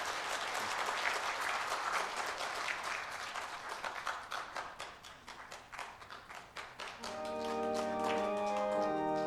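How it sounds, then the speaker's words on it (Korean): A church congregation applauds during a New Year's Day Sunday worship service, with dense, steady clapping that thins into scattered claps before music and singing swell in at the end. "우리 큰 축복의 박수 부탁드립니다"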